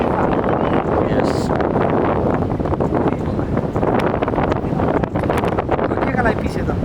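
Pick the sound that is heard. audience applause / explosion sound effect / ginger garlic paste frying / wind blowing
wind blowing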